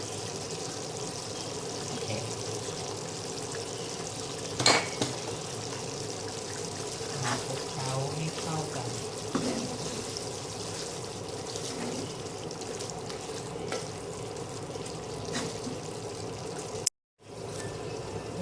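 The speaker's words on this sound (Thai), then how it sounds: "ใส่น้ำปลานิดนึงค่ะ ต้น้ำปลานะคะ" Fish sauce poured into a pork panang curry, heard as a soft, steady liquid trickle under a low background hum, with one brief knock partway through.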